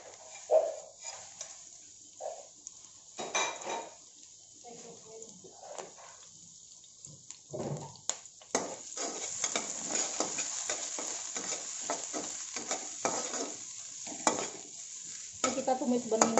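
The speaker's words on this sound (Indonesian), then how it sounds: "Bawang putih sama bawang merah. Tumis. Main tumis semuanya ya." Garlic and shallots sautéed in a pan for stir-fried carrot and chayote, quiet intermittent sizzling with spatula scrapes and stirring clatter that grows busier and louder toward the end.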